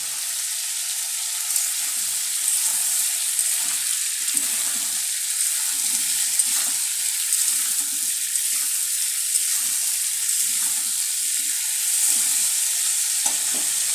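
Pumpkin, potato and drumstick pieces sizzle in a pan with salt, a steady frying hiss broken by repeated scraping strokes of a spoon stirring them, close and continuous, with no one speaking.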